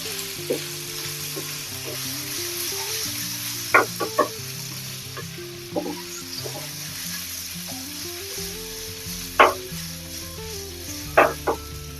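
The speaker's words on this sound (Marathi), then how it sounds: "सगळं याच्यात टाकून द्यायचे आणि मस्त त्याला फोडणी देऊन द्यायची" Spices sizzle steadily in hot oil for a tempering, a continuous crackling hiss broken by a few sharp pops and spatters.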